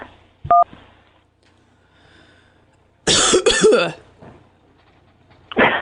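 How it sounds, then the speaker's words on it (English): A few sharp, loud coughs in a quick burst, following a short electronic beep, with quiet room noise in between. "I got a cough."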